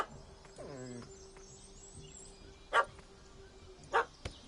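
A small puppy barks and yips in The Witcher 3: Hearts of Stone at a cat that has fled up a tree, giving a few sharp, fairly faint barks spaced apart, with a whimpering whine early on.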